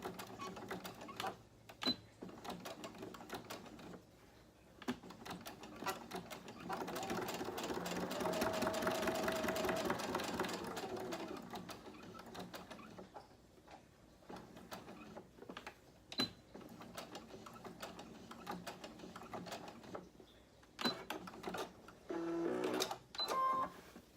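A sewing machine runs in short back-and-forth bursts, back stitching fabric for a scrunchie, with a louder sustained stretch in the middle and quiet pauses between runs.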